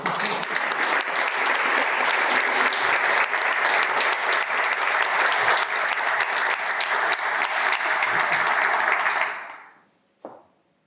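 At a book presentation for a local studies journal in Colmenar Viejo, the audience gives loud, sustained applause for about nine seconds before it fades quickly, followed by one brief knock.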